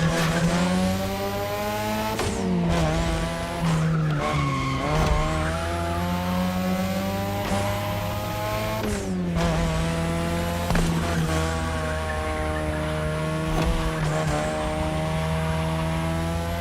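A race car in a driving game revs and shifts through gears, engine whine rising and dropping repeatedly, with tire squeal through the corners, loud and continuous.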